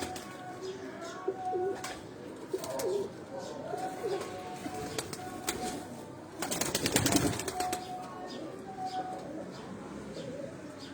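Sialkoti breed pigeons cooing on a rooftop, soft repeated coos and a few chirps over steady background noise, with a louder burst of fluttering wings midway and someone talking throughout.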